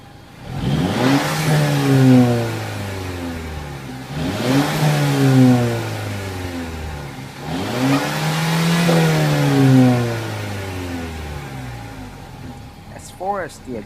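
Three close, loud rev cycles from a 2014 Mercedes-Benz CLA250 Edition 1 exhaust in Sport mode. Each one sweeps up and drops back toward idle, followed by a brief high chirp at the end.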